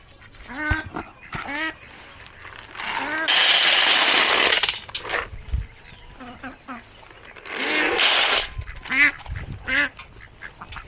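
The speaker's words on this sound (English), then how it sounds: "Here come the ducks" Ducks quacking near a farm fence as they gather to be fed, a run of short nasal calls with a few loud bursts, while a person talks over them.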